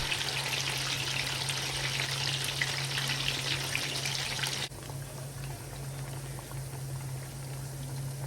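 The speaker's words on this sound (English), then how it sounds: "I'm going to fry it until they're very nice and caramelized or golden brown" Ripe plantains frying in oil over low to medium heat, a steady close bubbling sizzle that drops to a softer, quieter crackle midway, with no voices.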